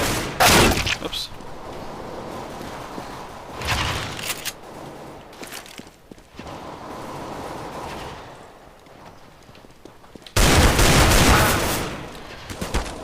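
Shotgun blasts in a video game come as a few loud, broad bursts spaced several seconds apart, the heaviest near the end, with quieter game noise and some talk between them.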